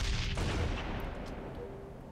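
Gunfire in a Halo free-for-all match: one heavy, booming shot opens the clip and then decays into a long rumbling tail, with a few faint pops following. No one speaks.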